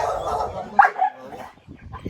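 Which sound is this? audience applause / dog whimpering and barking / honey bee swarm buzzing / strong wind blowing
dog whimpering and barking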